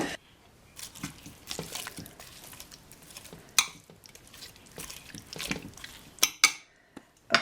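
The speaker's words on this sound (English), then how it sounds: "So you'll just want to give that a quick stir." Creole chicken ingredients being stirred in a slow cooker: a spoon scrapes and knocks against the pot with wet squelches and a few sharp clinks near the end, heard up close without speech.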